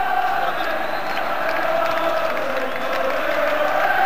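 Football crowd at a 1986 Rangers versus Celtic match fills the stadium with continuous massed chanting and singing, a dense, steady roar of voices from thousands of fans.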